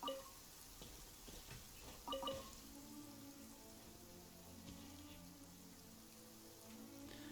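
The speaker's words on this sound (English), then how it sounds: "Of course it's starting to rain again." Rain falling in the video game Genshin Impact on the road from Mondstadt to Dawn Winery, a soft, faint patter of drops on surfaces with a few brief louder taps early on.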